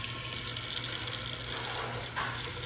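Kitchen tap water runs steadily into a sink while leafy greens are washed, a continuous close splashing rush with no talk.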